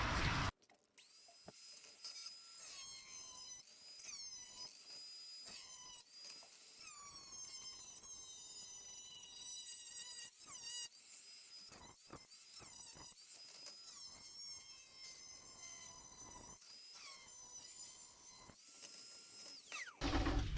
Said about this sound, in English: so I can cut this piece out of the middle. And I think I'm just going to use the wheel of death because it's 16 gauge